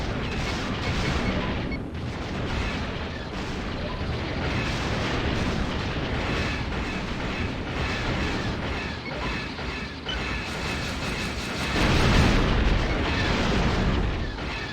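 Dense, continuous rumbling blasts and heavy weapons fire fill a space combat mission in the X-Wing Alliance flight game, with louder booms swelling near the end.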